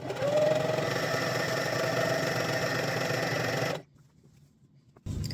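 A sewing machine stitches fabric for a LARP shield cover, running in a steady loud mechanical drone for nearly four seconds, then stopping briefly before starting up again.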